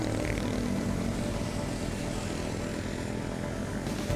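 Drone propellers buzzing outdoors near a canal in Boso Boso, Antipolo, a steady dense whirring hum that stays constant and close for the whole moment with no talking.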